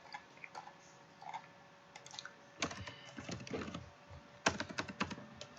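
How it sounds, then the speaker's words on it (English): Someone types on a computer keyboard while coding a webpage template, making quiet, close, irregular runs of clicks. The keys speed up into denser bursts in the second half. "Oh, this is a lot of typing."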